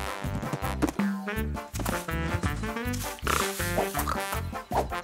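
Cartoon pigs grunt and oink in quick bursts, close by, with snuffling and shuffling between the calls.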